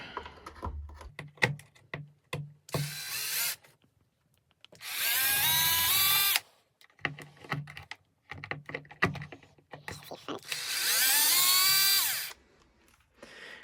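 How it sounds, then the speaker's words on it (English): A power screwdriver whirs in two sustained bursts while removing the cover of a Traxxas X-Maxx RC truck, between rapid clicking and rattling handling of screws and plastic parts, close and without talk. "So when you've taken all these cords out, it's time to unscrew the cover."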